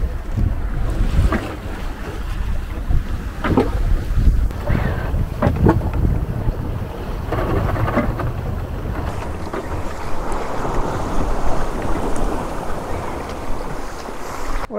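A sailboat moves under sail through shallow water in the Kattegat off Denmark, with steady wind buffeting the microphone and water washing along the hull throughout, near and continuous.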